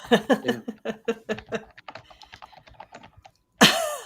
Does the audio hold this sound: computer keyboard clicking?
yes